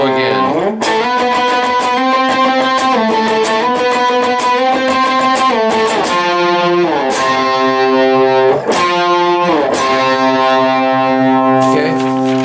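A heavily distorted electric guitar plays loud, sustained chords and riffs from a song, shifting pitch every second or so with brief sharp breaks between phrases.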